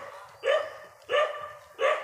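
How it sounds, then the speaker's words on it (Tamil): A dog on a hillside banana farm barks three times at a steady, evenly spaced rhythm, each bark loud and fairly close, with no talking over it. "நாய் சேஃப்டிக்கு இருக்கு, ரொம்ப நல்லதா."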